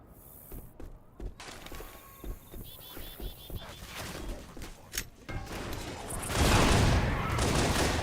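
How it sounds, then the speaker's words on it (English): Pistol fire in the zombie shooter Left 4 Dead 2, a series of quick sharp shots at a steady rhythm, building into denser, louder gunfire and chaos toward the end. "I like the way that you can fire the pistol as quickly as you want here"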